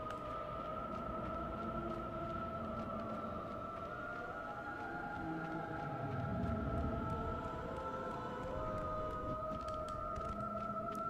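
A female siren's wordless singing in the God of War video game, long sustained tonal notes held steadily over a low rumbling ambience, continuous and fairly loud throughout, swelling slightly in the middle.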